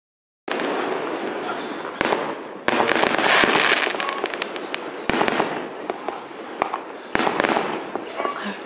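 Fireworks and firecrackers burst repeatedly during a Deepavali celebration, a series of sharp cracks and crackling rumbles at moderate distance, with people talking nearby.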